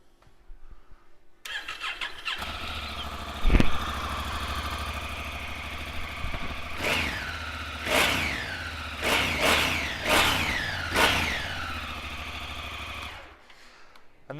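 A 2017 Honda CRF1000L Africa Twin DCT motorcycle with low mileage starts up and settles into a steady idle, with several short throttle blips rising and falling before the engine cuts off, heard alone and close.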